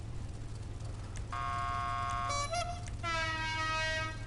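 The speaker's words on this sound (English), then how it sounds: "I usually like to go with a nice loud" Loud multi-tone truck horn on a Bravado Gauntlet Hellfire muscle car in GTA Online, blaring in two long sustained blasts with a brief break between, over a steady low engine idle.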